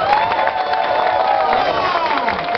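A crowd at an AIM Global event in the Philippines cheers and whoops over sustained clapping, loud and continuous, with a voice rising above the noise.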